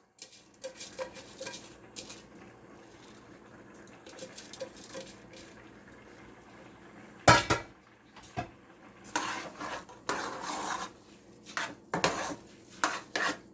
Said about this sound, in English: In this, I'm going to put 4 cups of rice.